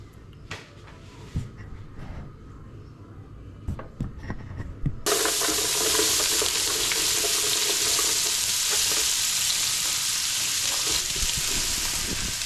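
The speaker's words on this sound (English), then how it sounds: "Just add our onions first, get them nice and golden brown" Onions frying in warm olive oil in a large pot for a Durban-style beef curry for about 30 people; a loud, steady sizzle bursts in about five seconds in and continues, after quieter kitchen clatter and handling sounds.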